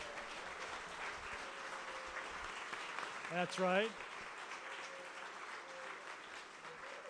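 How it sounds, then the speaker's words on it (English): Audience applause for panelists at a peace symposium plenary panel, a steady broadband wash of clapping that runs throughout, with a brief voiced remark from someone midway through. "let's give our panelists another round of applause"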